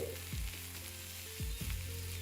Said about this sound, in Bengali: আমি এখানে দিয়ে দেবো পেঁয়াজ, যেটাকে আপনার ফ্লেমটাকে মিডিয়াম রেখে ভালো করে একবার ভেজে নিতে হবে।